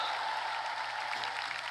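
Applause from a political rally crowd for Democratic Party candidates, a steady broadband wash of clapping without pause, fairly distant and even in loudness.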